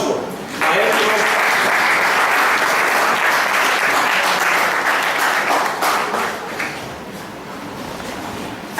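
A forum audience greets an arriving speaker with sustained applause. The clapping swells quickly, holds as a loud dense wash for several seconds, then tapers off near the end.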